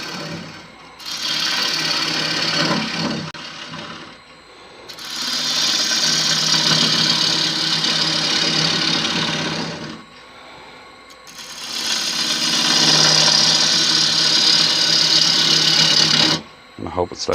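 Wood lathe hollowing a bowl from a badly checked log: two long, loud stretches of continuous rough scraping and cutting, separated by pauses with the lathe running more quietly, with speech faintly under the noise.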